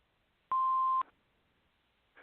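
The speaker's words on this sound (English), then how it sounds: "Please leave your name and phone number after the beep." A telephone answering machine emits a single steady electronic beep lasting about half a second, clear against near silence, followed by a faint noise just as the clip ends.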